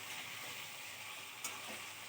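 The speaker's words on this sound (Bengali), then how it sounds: "এখানে আমি চিকেনগুলোকে ভালো মতো ভেজে নিচ্ছি" Chicken pieces frying in a pan for a curry, a steady bright sizzle running without a break, with a couple of faint stirring clicks near the end and no talking.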